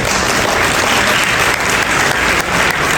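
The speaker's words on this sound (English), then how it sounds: "This round of applause actually belongs to Baba Farid." Audience applause at a Punjabi-themed interview event, steady dense clapping filling the whole stretch at a loud level with no talk over it.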